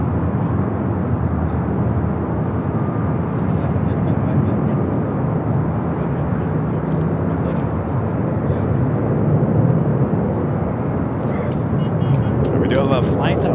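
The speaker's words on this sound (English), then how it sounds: "A flight, Alaska Horizon Flight 2089, coming from Eugene, Oregon. It's another E-Jet. That is the arrival" An Alaska Horizon E-Jet airliner arrives at Los Angeles International Airport, its steady, loud jet roar and rumble filling the whole stretch while someone talks over it.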